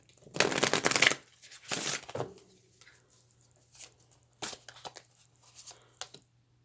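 Astrology cards being shuffled in several bursts of crisp riffling and papery rustling, close and fairly quiet, followed by scattered soft taps and card slides over a faint steady hum.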